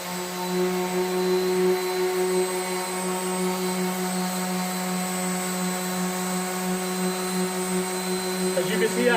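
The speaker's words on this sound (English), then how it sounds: "I'm letting the sander do its job." An orbital sander runs across wood with light pressure, giving a steady, continuous motor whine and hum with a faint scratchy rasp near the end.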